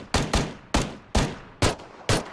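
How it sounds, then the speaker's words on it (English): Pistol and shotgun fire in a PUBG match, five or six sharp loud shots spaced roughly half a second apart, each with a brief decaying tail, heard alone. "Pistol against shotguns."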